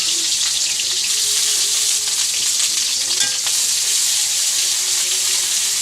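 Onions hit hot oil in a pan, giving a loud, dense, even sizzle that holds steady throughout, with a faint scrape of stirring near the middle.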